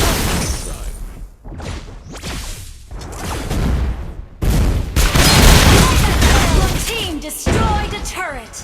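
Loud Mobile Legends battle effects as a turret is destroyed: rapid gunfire bursts, booming explosions and sweeping whooshes, layered and chaotic, with brief game voice callouts.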